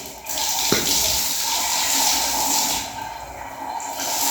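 Water runs steadily from a tap while a gas cylinder is scrubbed with a brush, a continuous close hiss and splash with a short knock near the start.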